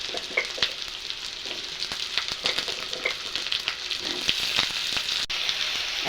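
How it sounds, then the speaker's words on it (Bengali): Potatoes frying in a pan for chilli paneer give off a steady close sizzle with crackling pops and occasional stirring scrapes, with no talking over them. "এই যে আলুগুলো অল্প ভেজে নিব।"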